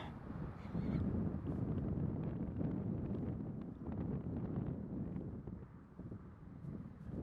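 Wind gusts buffet the microphone on an open golf course, a loud, steady low rumble that swells and eases slightly without letting up over several seconds.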